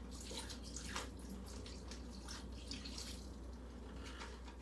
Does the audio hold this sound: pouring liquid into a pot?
yes